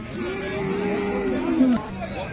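A cow moos once in a long, drawn-out low call at the Baramati cattle market in Pune district, heard fairly close over a steady murmur of market crowd noise.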